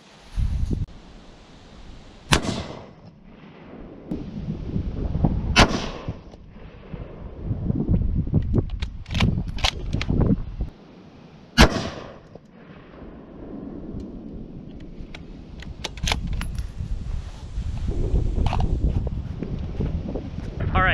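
Several sharp, loud reports from a Remington 700 PCR bolt-action rifle in 6.5 Creedmoor, spaced seconds apart outdoors, with wind buffeting the microphone and brief talk between shots.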